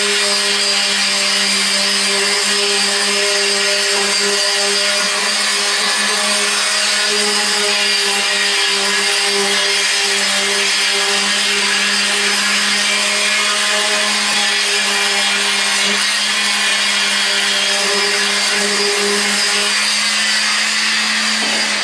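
Paint being sanded on a Toyota Coaster bus, a steady, continuous abrasive hum with a strong tonal buzz, like a power sander running without pause.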